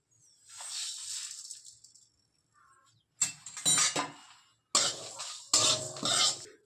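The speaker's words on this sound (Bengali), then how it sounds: "এগুলো আমি একটু শুকনো খোলায় ভেজে নেব।" Whole spices dry roasted in a pan without oil: black and yellow mustard, cumin, fennel, ajwain and dried red chillies. Loud bursts of rattling and scraping come in stops and starts, broken by short quiet gaps.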